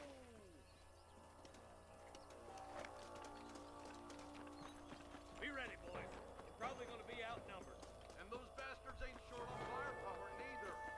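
Steady horse hooves clip-clop beneath a busy Red Dead Redemption game soundscape with music, birds and occasional snorts, while someone talks over it.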